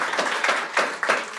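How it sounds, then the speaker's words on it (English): Audience applause rises in several quick bursts, bright, dense hand claps from a crowd in a hall, fading between waves. "Oh, now you are clapping for satellites."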